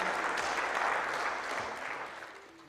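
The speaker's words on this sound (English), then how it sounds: "So can we have a big round of applause," Audience applause at a squash championship semi-final ceremony, a dense, even clapping that fills the space loudly and then gradually thins out and fades toward the end.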